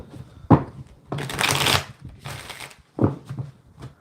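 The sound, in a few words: shuffling tarot cards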